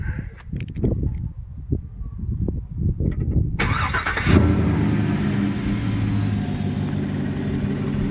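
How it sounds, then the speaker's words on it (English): A 2017 Chevy Silverado Z71 with a modified 6.2 V8 cranks briefly and catches, settling into a loud, steady rumbling idle after a few seconds of quieter mechanical clicks. "Now, I'm going to do a quick start on the truck."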